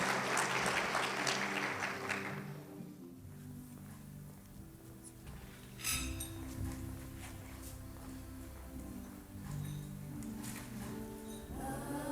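An audience at the United Way of the Lower Eastern Shore annual meeting applauds a gospel choir, a brief burst of clapping that quickly fades into low room murmur and rustling.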